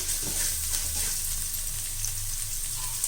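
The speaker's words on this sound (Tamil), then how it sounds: "இப்போ இதில் கடுகு, உளுத்தம்பருப்பு, பூண்டு, வெங்காயம் இதெல்லாம் போட்டு நம்ம வதக்குறோம்." Mustard seeds, urad dal, garlic and onion sauté in hot oil for a drumstick leaf and peanut poriyal, giving a steady close sizzle with light stirring and no voices.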